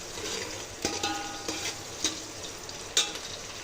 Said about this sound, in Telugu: దీన్ని కలుపుకుంటూ రోస్ట్ చేసుకోవాలండి